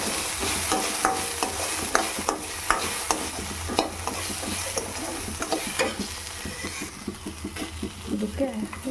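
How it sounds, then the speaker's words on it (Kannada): Salt gets mixed into food cooking in a pan: rhythmic stirring scrapes and taps over a low sizzle, quickening toward the end, while a person talks over it. "ಅದಕ್ಕೆ ಸ್ವಲ್ಪ ಉಪ್ಪನ್ನ ಹಾಕ್ಕೊಂಡು ಮಿಕ್ಸ್ ಮಾಡ್ತೀನಿ"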